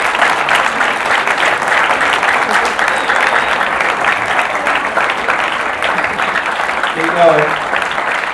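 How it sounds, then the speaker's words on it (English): An audience at a Q&A evening at Stonyhurst gives Judy Murray a loud, sustained round of applause, a dense, even clapping that fills the room, with a voice briefly speaking over it. "Can we give Judy a massive round of applause?"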